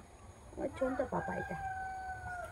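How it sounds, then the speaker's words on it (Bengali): A village rooster crows once, faint and distant, its drawn-out call trailing off while a person speaks softly nearby. "মোরগ ডাকছে। গ্রামেই না এই আওয়াজগুলো শুনতে পাওয়া যায়"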